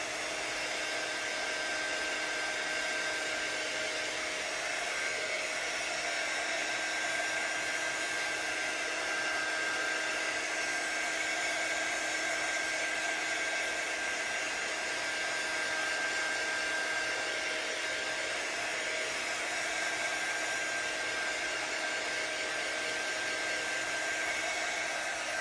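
A hair dryer runs continuously for the full length, blowing at one steady pitch to dry tacky paste, close and even with no pauses and no talk.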